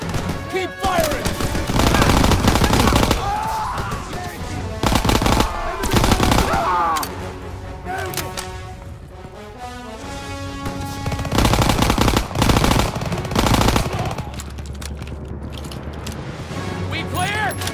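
Sustained machine gun fire in a Call of Duty WWII street battle during the invasion of Aachen, with loud repeated bursts and fusillades across the whole stretch, some volleys very close, and shouted dialogue mixed in.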